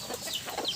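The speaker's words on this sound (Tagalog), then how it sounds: "nag-aaway pa yung mga tandang." Roosters squabbling beside a house on a small backyard chicken farm, giving low, agitated clucks and scuffling, a short, close burst without speech.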